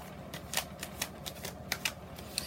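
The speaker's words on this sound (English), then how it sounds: "So as I shuffle these cards" Crisp riffling and snapping of cards in short bursts, close by, with soft rustles between, no talking.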